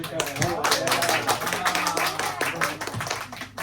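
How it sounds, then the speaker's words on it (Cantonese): A crowd claps in a brisk, continuous burst of applause after a duet at a live music show, while voices chatter and call out over it. "俾啲掌聲俾啊！"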